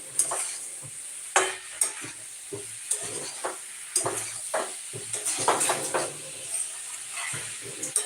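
Jackfruit curry stir-fried in a pan, a spatula scraping and clacking in irregular strokes over a steady close sizzle, with no talking.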